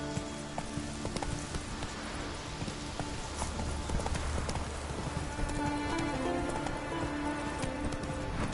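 The horse Roach's hooves in The Witcher 3, steady clip-clopping footfalls under a soft patter of rain, moderately faint and continuous throughout.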